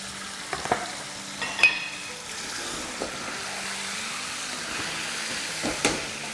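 Bone-in chicken pieces, about 1.25 kg, go into a hot pot for biryani pulao and fry with a steady low sizzle. A few soft clinks and stirring knocks stand out over the frying, with no talk.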